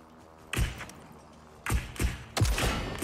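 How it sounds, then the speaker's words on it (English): Gunfire in the battle royale game Super People rings out in three bursts of sharp shots, a single crack followed by two heavier volleys, with no talk over them. "He's like shooting at someone here."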